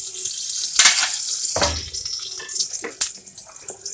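Butter or cooking oil in a hot pan for pancakes, sizzling and crackling at close range in short bursts, with brief clattering handling noises and no talk.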